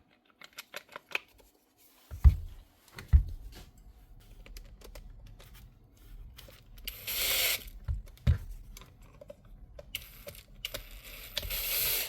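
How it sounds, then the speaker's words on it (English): A brushless power-tool motor on a repair bench clicks and ratchets as its rotor is turned by hand, giving a string of close, uneven mechanical clicks and clatters with no talking. "It's a brushless motor, so when you turn it, it will click."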